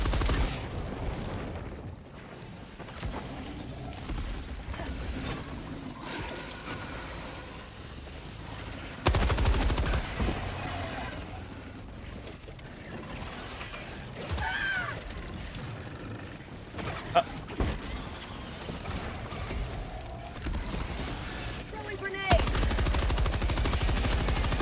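Machine gun fire from a horde-shooter video game, with bursts of automatic shots and booms mixed into dense game sound and music across the whole stretch.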